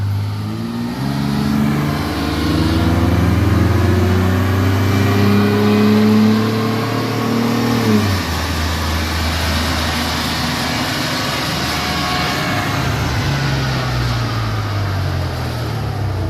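Chevrolet S10 truck with a 4.3 engine, lowered, with a throttle body spacer and cold air kit, revving on a dyno: loud sustained engine drone rising in pitch, dropping sharply after eight seconds, then climbing again.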